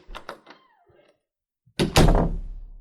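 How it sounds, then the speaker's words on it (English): Knocking at a door, a few soft, quick taps near the start, then a louder burst of thumping and rattling that trails off. "Someone at the door?"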